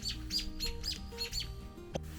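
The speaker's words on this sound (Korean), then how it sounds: "어미새가 없는 줄 알았는데 멀리서 시끄럽게 경고를 합니다" A mother robin gives loud, repeated chirping warning calls from a distance near a nest of fledglings, a rhythmic series of sharp tweets over a low background hum.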